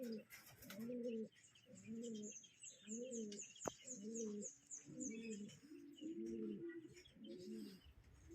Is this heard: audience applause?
no